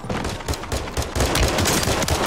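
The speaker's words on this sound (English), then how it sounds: "Stop shooting at my home girl" Dense video game gunfire, with rapid continuous bursts of automatic shots filling the whole short stretch, loud and close without speech.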